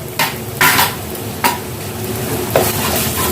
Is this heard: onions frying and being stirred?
yes